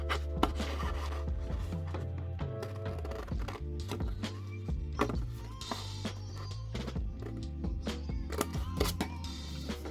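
Scissors snip through scrapbooking paper along a marked line, giving a series of short, crisp cuts at an irregular pace, fairly faint and close, over soft background music.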